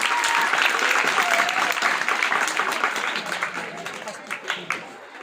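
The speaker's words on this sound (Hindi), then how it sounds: "जोरदार ताली बजाइए।" An audience at a school convocation ceremony in Aurangabad applauds steadily, a dense sustained crowd clap that fades toward the end into a few scattered louder claps.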